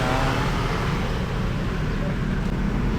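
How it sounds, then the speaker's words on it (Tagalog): Steady road traffic roars past continuously, with many cars making a dense, loud, unbroken rumble and no distinct gaps. "Dami sasakyan, no?"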